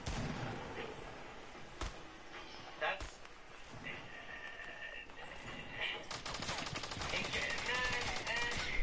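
Gunshots in a video game, a few sharp isolated cracks followed by rapid bursts of gunfire under a busy in-game sound mix.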